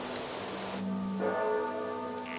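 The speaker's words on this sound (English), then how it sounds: "You hear the clear ringing of my church bell?" A church bell rings out in a field by the Le Mans circuit, its clear sustained tones layering into a steady resonant hum that carries over the faint outdoor background.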